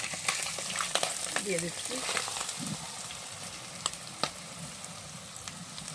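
Hot oil from frying katla fish is poured into a pan, giving a steady close sizzle with scattered pops and clinks; a voice speaks briefly over the frying.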